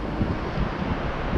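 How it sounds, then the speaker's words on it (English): A brisk easterly wind gusts through woods, buffeting the microphone in a loud, continuous rumble. "rather brisk easterly wind coming in"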